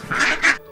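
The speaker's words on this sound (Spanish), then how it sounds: "El ganso grazna." A goose at a farm pond gives two quick, nasal honks in close succession, loud and close, with nothing else heard.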